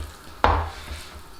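A knife cuts a cod fillet in two with a single sharp chop onto the board, then a brief fading thud over a quiet kitchen hum.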